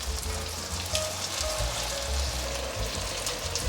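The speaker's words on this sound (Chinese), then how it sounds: "炸素鱼已经炸成金黄色了" Battered eggplant pieces, coated as vegan mock fish, deep-fry in hot oil with a dense, steady bubbling sizzle that sounds like rain, close and continuous with no talking.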